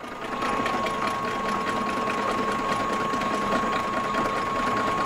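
A Stokes Tri-Pact 35-station tablet press runs continuously on three-phase power, giving a steady, fast mechanical chatter with a constant whine throughout, close and even in level.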